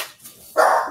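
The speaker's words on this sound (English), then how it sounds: "My dog is going crazy." A pet dog indoors lets out a single sharp, loud bark close by after a moment of near quiet, with no talk.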